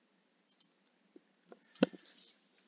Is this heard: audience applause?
no